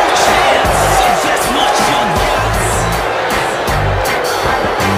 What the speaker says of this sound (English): The crowd inside the arena is all fired up